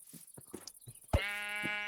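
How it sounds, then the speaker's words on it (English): Sheep bleating in the Minecraft Create modpack, quiet footsteps and game sounds for the first second, then a single sustained loud bleat close by. "Here's some sheep."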